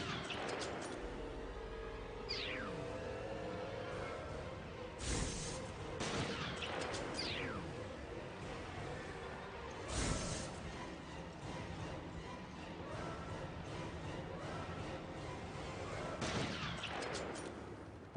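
Sniper rifle fire in Resident Evil: Revelations on PS4, a few sharp, widely spaced shots ringing out over a constant game ambience, with no talking.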